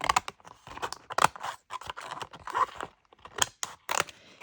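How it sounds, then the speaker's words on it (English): Scissors cut through a paper napkin at close range, giving a quiet series of crisp, irregular snips and rustles. "I'm going to cut it in half again"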